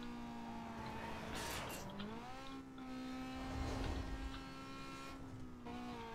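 Struggling car engine in Need for Speed Most Wanted (2005) drones and strains through a race, with gear shifts, brief tire noise and other cars passing, all alone without any talking.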